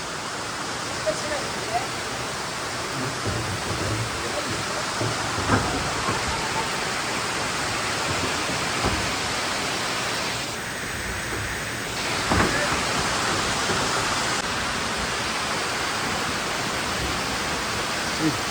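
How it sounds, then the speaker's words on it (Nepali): Heavy rain pours down at Chiseni, Budhanilkantha near Kathmandu, a dense continuous roar that stays loud and even throughout, with a brief voice breaking through partway. "भयङ्कर पानी पर्यो"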